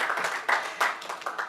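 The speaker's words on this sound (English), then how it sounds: "round of applause for me" Audience applause at the launch of the Friends of Mental Health NGO, a steady patter of many hands clapping at close range with a few louder surges, heard on its own.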